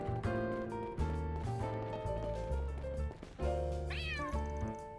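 A gray cat in the video game Trails Through Daybreak II meows over game music, with a rising, plaintive meow cry standing out near the end of the clip.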